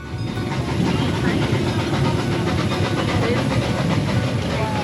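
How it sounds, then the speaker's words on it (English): Lagoon's Wild Kingdom Train ride locomotive rumbling steadily along the rails at close range, a dense continuous low roar with faint rhythmic clatter throughout and no talk. "The sound of the locomotive is soothing."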